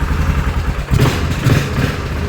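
Yamaha Grizzly ATV engine idling steadily after a carburetor cleaning, a close, continuous low throbbing with a slight mechanical clatter and a small dip in level near one second.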